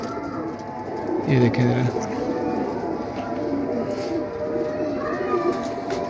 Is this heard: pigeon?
yes